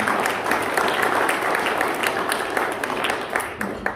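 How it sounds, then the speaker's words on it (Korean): Sustained audience applause at a Korean cultural awards ceremony, many hands clapping steadily and fairly loud throughout. "큰 박수 보내주니다"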